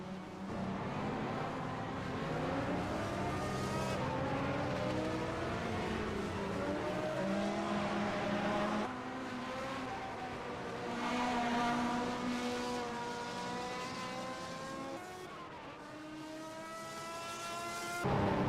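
Historic sportscars in a virtual racing game at Lime Rock, several engines droning and revving together in a close battle, with pitch sweeping up and down as gears change over a steady moderate level.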